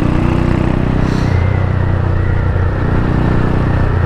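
A Honda CBX Strada 250cc motorcycle rides through town, its engine a steady, moderately loud hum and rumble with no talking.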